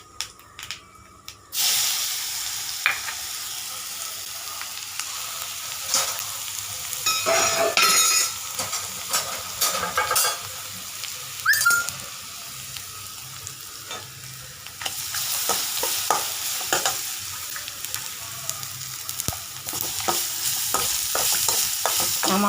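Ground pepper, cumin and garlic sautéing in hot oil in a home kitchen, a steady close sizzle and hiss with intermittent stirring scrapes and clinks of the pan throughout, no talking.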